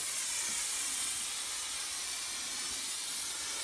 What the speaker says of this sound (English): Once I've cut my bit of insulation to size, I get my spray glue again,